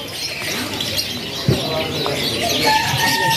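Caged canaries chirp and twitter amid the bustle of a busy bird market, with someone talking over the birdsong throughout.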